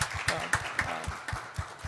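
A congregation at a Korean church youth service claps in welcome for a visitor, with a steady rhythm of clear hand claps at close range for about two seconds and no talk.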